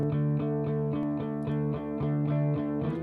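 A music mix with reverb applied plays loud and close: a distorted, sustained tonal instrument with rhythmic pulsing accents about twice a second, a smeared, washy tail blending the notes, no voices.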